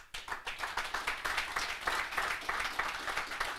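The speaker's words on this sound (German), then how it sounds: "Applaus" Audience applause at a political event marking 70 years of the Grundgesetz, following a speech; dense, steady clapping from a crowd in a hall, with no talking.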